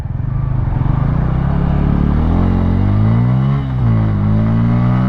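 A 2024 Bajaj N160 motorcycle engine runs loud and close while riding, with the revs climbing steadily, a brief dip near the end, then resuming, with no talking.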